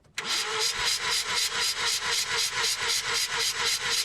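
A Mazda RX-8 rotary engine cranking over during a compression test: the starter turns the engine with a fast, even pulsing rhythm, close and steady for about four seconds without catching.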